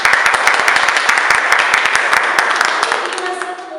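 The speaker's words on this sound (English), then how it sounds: "So let's have a round of applause for us." A room of people at a meeting gives a round of applause, loud, close, dense clapping that fades slightly toward the end.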